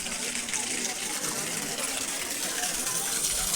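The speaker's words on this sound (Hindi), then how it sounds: "ये देखिए गौमुख बना रखा है, गौमुख से ही ये पानी आ रहा है।" Spring water pours steadily from a cow-mouth spout at a village stream beside a Shiva shrine, a continuous close, full gushing rush with no break.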